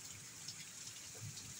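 Steady rain falling outside a house, a soft even hiss of drops with no talk, holding at a constant low level throughout.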